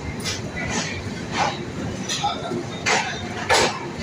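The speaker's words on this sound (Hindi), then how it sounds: "और हमारी ट्रेन संबलपुर जंक्शन से निकल चुकी है।" The Hirakud Express, an Indian Railways passenger train, runs just after leaving Sambalpur Junction, with a steady rolling rumble and periodic clickety-clack bursts from the wheels heard from inside the coach.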